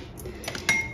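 A spoon scrapes and taps against rice in a multicooker pot while pilaf is prepared, a brief close clink of metal on the pot.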